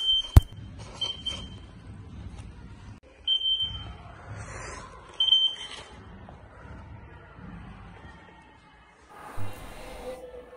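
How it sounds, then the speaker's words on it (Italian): Small electronic alarm on a cardboard model security door built for a school science project, sharp tonal beeps sounding intermittently several times amid handling noise and clatter, fairly close. "costruendo una porta di sicurezza che aprendosi si fa scattare l'allarme"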